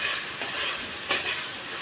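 Koi fish curry being stirred in a pan, a soft steady sizzle with two brief scraping strokes of the spoon, close and alone.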